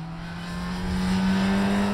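Supercharged Kawasaki Ninja H2 SX SE motorcycle engine revving under throttle, a steady loud engine drone with a strong low tone that swells slightly, close and alone with no talk.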